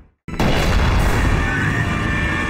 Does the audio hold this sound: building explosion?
yes